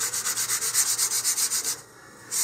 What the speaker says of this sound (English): here I'm just going to sand back and forth